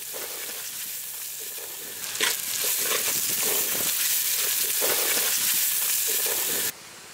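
Onions with ginger-garlic paste and a pinch of salt fry in a pan for Andhra-style prawn fry, giving a steady loud sizzle that jumps up after a stir and holds until it drops off near the end.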